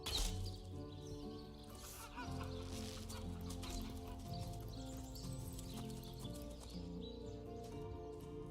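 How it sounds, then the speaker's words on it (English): Clucking chickens in the fantasy role-playing video game Divinity: Original Sin, quiet and layered over continuous game music and ambient effects, with repeated short clucks throughout. "Chicken, chicken, chicken!"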